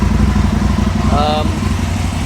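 An Aprilia motorcycle engine idles close by at a slightly raised tick over, with a wideband sensor fitted in the rear cylinder exhaust pipe. It gives a steady, loud, continuous rumble, with a brief tonal whine partway through.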